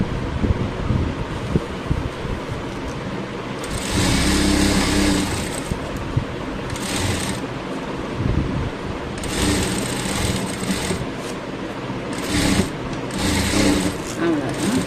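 A sewing machine stitches a seam on a boat-neck princess-cut blouse, running in several loud bursts of a few seconds each with short pauses, over a steady noisy background.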